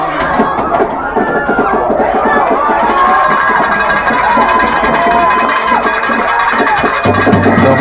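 A loud, excited crowd at a high school football game between Irion County and Roby, a dense, continuous roar of cheering and chatter from the home stands with no pause.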